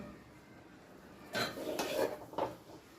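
A few clinks and scrapes of a serving spoon against a pot and bowl while serving drumstick and moong dal curry, close by, clustered in a short burst after a quiet start.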